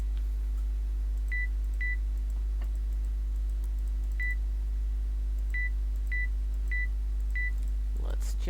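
Short electronic beeps from the video game Conveyor Belt Sushi Simulator, single and paired tones spaced irregularly over a constant low hum, ending with a brief noise burst.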